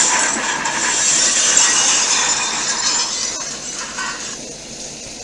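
A train brakes hard before crashing into the back of a freight train, a loud, sustained screeching hiss of metal and rail that holds strong then thins and fades near the end.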